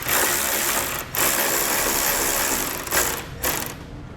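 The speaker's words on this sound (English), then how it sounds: "We're going to leave it somewhat loose, but we're going to run the bolt in several turns." Ratchet driving a subframe bolt in several turns while fitting a Roadmaster crossbar-style base plate to a 2018 vehicle; continuous close, loud clicking with brief pauses near one and three seconds.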